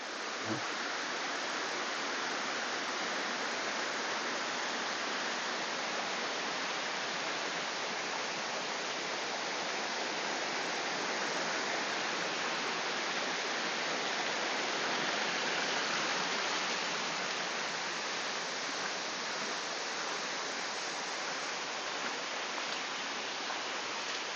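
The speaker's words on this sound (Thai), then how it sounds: "ตรงนี้นะครับชั้นที่สามผาน้ำตก" Rushing water pours down the third tier of Erawan waterfall. It makes a loud, constant broadband roar that stays unbroken and even throughout, with no voices.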